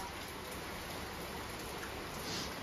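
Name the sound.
rain falling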